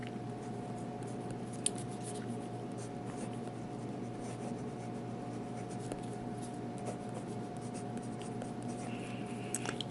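Jinhao fountain pen with a medium nib writing on paper, a close, continuous soft scratching over a steady background hum.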